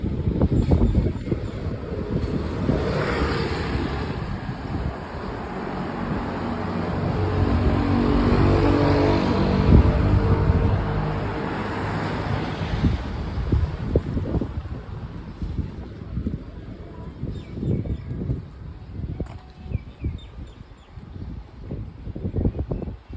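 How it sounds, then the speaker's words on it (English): Wind blows outdoors on a morning walk along a high road in Koh Chang. Steady gusts rush and buffet the microphone, swelling to a peak midway, with scattered thumps and rustles beneath. "A little bit windy this morning."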